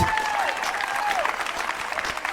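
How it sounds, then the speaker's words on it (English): A live audience at a Beat of the Heartland stage show breaks into sustained applause, dense steady clapping with a few whistles gliding over it throughout. "Can we make some noise?"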